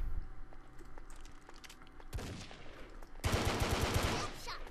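Gunfire from the blocky online shooter Brick-Force, with scattered single shots early on, then a dense burst of rapid automatic fire in the final seconds, loud and close over busy game noise.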